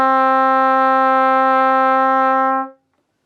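A trumpet plays a low D fingered with valves one and three, a single steady sustained tone held for under three seconds before it stops cleanly, solo and close.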